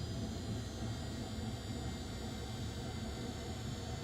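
Jet engines of a Cessna Citation X on the runway give off a continuous, even roar with broad rushing noise and faint steady whine, moderately loud and unbroken, with no voices.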